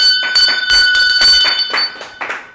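A bell is rung in celebration of honor roll graduates, giving a steady run of bright, ringing strikes that stay loud and close, with each strike sustained under the next and no voices.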